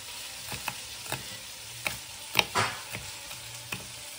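Okra frying in a pan sizzles under a steady hiss while a spoon stirs it, scraping and clinking in irregular bursts, close and fairly quiet.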